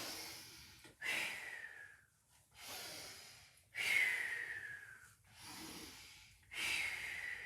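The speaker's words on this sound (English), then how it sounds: "breathing out" Slow, controlled exhales during a Pilates mobility exercise, three long audible breaths out close to the microphone, each rising and fading, with quieter inhales between.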